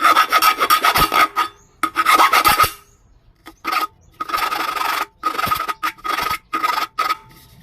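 A metal file rasps hard against an aluminium drink can in loud, bursty scraping strokes separated by short pauses, close up and alone.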